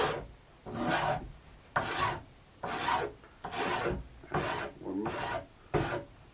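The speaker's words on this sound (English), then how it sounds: "you're going to take your file and you're going to start filing away this direction" A coarse metal file rasps along the sidewall of a sandwich-construction alpine ski in about seven steady, evenly spaced strokes, close and clear with no voices.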